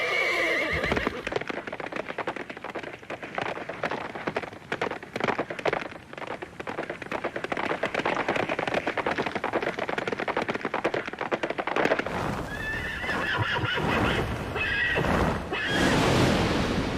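Horses race in an animated Samurai Champloo scene, with thundering hooves and loud whinnies over a dense, rain-like wash, then a burst of neighing near the end.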